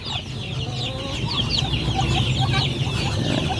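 Hungry chicks cheep in a busy, overlapping chorus of high peeps while chickens cluck lower underneath, all close by and continuous, with no talk.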